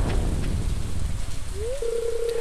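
Steady rain in the video game Stardew Valley, a dense, even hiss of falling rain that continues throughout, joined near the end by a brief rising tone that holds steady.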